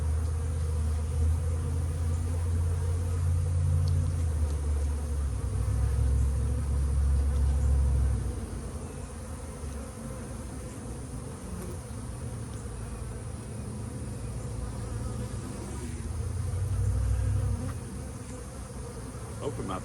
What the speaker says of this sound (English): get all the worker bees out of there